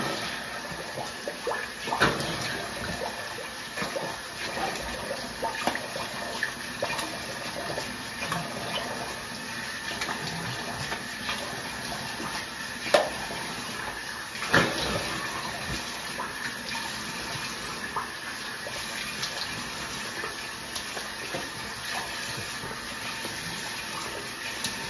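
A tap runs steadily while shaving lather is washed off a face, a constant close hiss of water with small splashes and occasional louder spatters.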